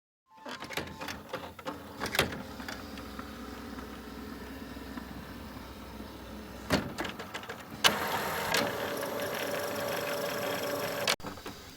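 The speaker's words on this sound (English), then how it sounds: "turn off and back on the printer so the print head and cartridge will return to the center" An HP OfficeJet printer powering back on, its printhead carriage whirring and clicking as it travels to the center, with a steady mechanical hum, several sharp clunks and a louder motor stretch near the end, close by with no talk.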